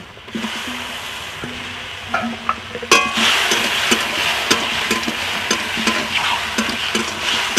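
Chopped tomatoes hit hot oil in a pan for a Bengali fish curry, giving a steady loud sizzle with stirring scrapes and a sharper burst about three seconds in, no talking.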